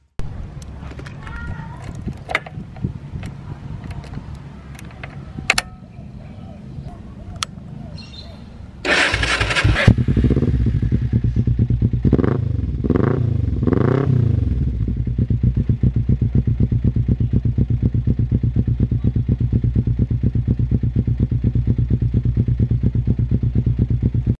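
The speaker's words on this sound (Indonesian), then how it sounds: "Kita langsung test ride motornya ya" A Suzuki GSX 250 Invader motorcycle is started up after a stretch of clicks and handling, then idles and revs with a steady close putter, a voice talking over it.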